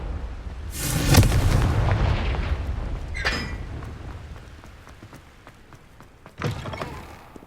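A Confringo blasting spell in Hogwarts Legacy goes off as a loud booming burst, followed by a second sharper blast and a later third boom, each with rumbling decay in between.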